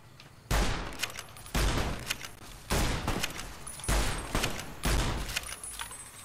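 Heavy single gunshots in the video game Fallout New Vegas: five loud, close blasts about a second apart, each with a short ringing tail.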